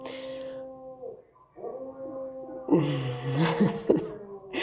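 A dog howls long and wavering like a wolf at a passing scrap dealer, a couple of drawn-out tonal cries close by, rising in intensity toward the end.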